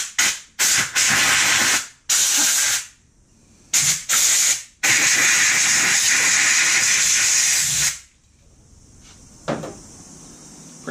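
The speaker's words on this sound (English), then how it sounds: "I'm going to use compressed air. All right, yep, that was a little strong." Compressed air blasts in loud, sharp hissing bursts while drying parts of a Subaru generator being rebuilt, several short puffs followed by one long sustained blow, then quiet handling noises.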